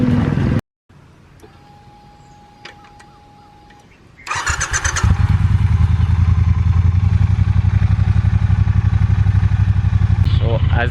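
A motorcycle started after sitting unused for a week: a click and brief cranking, then the engine catches and settles into a loud, steady throbbing idle nearby, with a voice in the background.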